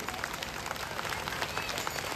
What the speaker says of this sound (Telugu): గట్టిగా చప్పట్లు చప్పట్లు